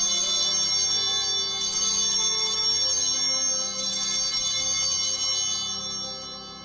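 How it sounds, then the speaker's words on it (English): Altar bells at Mass ringing in a sustained, shimmering metallic peal that swells twice and fades toward the end, fairly loud with no talking. "The bells are rung 3 times again when Father lifts the chalice."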